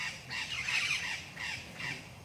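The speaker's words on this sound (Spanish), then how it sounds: "aquí hay pajaritos, mire." Wild birds calling outdoors in Mexico: several harsh, squawking calls in bursts, fairly close and clear, with no one speaking.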